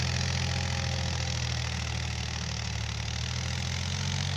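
A farm tractor idles in a field, its engine holding a steady, even low throb with a constant hum, close and uninterrupted for several seconds.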